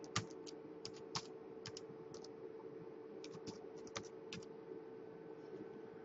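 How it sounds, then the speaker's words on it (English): Quick bursts of key presses on a computer keyboard tap out a password, soft and close, with short pauses between clusters over a low steady hum. "So I'll retype it to make sure."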